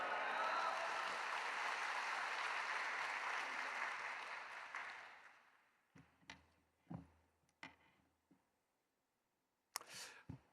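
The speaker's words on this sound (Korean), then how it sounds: "이제 교수님 나오실 때 할렐루야로 하나님께 영광 돌리고 큰 박수로 맞이하겠습니다." A congregation at a Yoido Full Gospel Church dawn worship service applauds loudly and steadily to welcome the preacher. The applause fades out after about five seconds, leaving a few scattered, isolated claps and knocks.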